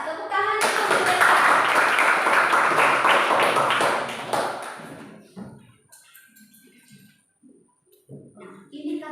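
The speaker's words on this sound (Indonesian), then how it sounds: "Tepuk tangan untuk mereka." A classroom of students in a teacher-training accounting lesson claps loudly for several seconds before the clapping fades out, followed by quiet scattered sounds and brief speech.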